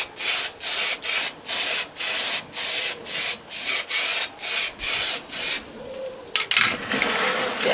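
Primer sprayed from a can onto clean metal of a Triumph T140 rear light, with about a dozen short, even hissing bursts in quick rhythm, then a longer softer spray near the end.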